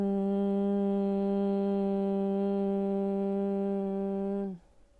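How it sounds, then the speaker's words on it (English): A person hums steadily on a long out-breath, producing one sustained, even buzzing tone that holds for about four seconds before stopping abruptly, close and alone. "when you breathe out, you make a humming sound."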